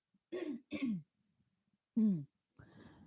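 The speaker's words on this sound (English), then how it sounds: "Let me clear my throat." Three or four short, rough throat-clearing bursts, close and fairly loud, separated by brief pauses with no talking.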